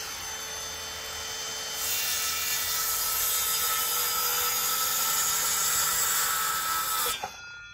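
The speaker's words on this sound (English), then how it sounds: "Then taking the circular saw, which is set to the depth, put my ear defenders on" Circular saw set to depth cutting a timber wall plate: a close, loud, steady whine that rises as the blade bites at about two seconds and then winds down near the end.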